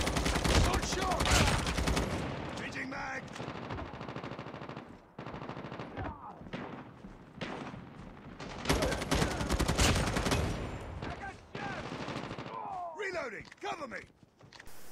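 Gunfire in Call of Duty Mobile, with loud repeated shotgun blasts and bursts of shooting filling most of the stretch and dense game noise between them, while a voice talks over parts of the action.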